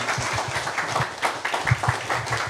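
A church congregation applauds to welcome a visiting missionary pastor, a brief round of scattered, moderately loud clapping with individual hand strikes standing out.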